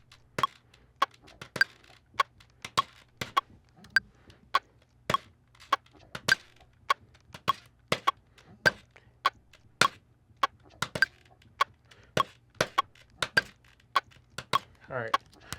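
Percussive clicks and taps sampled from a plastic water bottle and played back in music software as a steady stream of sharp, dry hits in a loose repeating rhythm, close and fairly loud, with a brief scraping sound near the end.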